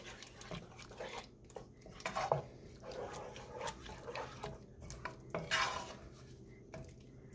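Beef stroganoff with sour cream being stirred in a pan: a steady, soft scraping and swishing of a utensil against the pan with occasional light clinks, continuous throughout and close by, with no talking.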